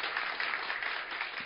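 Church congregation clapping to encourage the youth, a steady wash of many hands applauding, close and even throughout the short moment.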